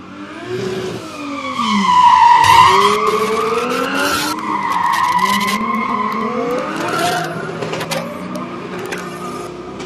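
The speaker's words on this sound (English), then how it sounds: "Spin out from the C5." A Corvette C5 drift car spins out at a drifting event, tires skidding and squealing loudly in long sweeping smears while the engine revs and wails throughout.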